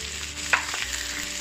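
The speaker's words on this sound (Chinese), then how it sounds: "那我们再加入青葱， 炒到它差不多了，我们再加入鱼翅进去，" Scallions and shark fin stir-fry in a hot wok for osmanthus eggs, with a loud continuous sizzle. A sharp spatula scrape sounds partway through, with no voices.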